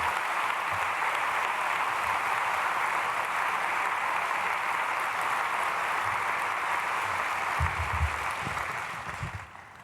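A church congregation at a Myungsung Church summer mountain revival applauds to welcome a pastor: a dense, even roar of clapping that holds for nearly ten seconds, with low thumps here and there, before tapering off.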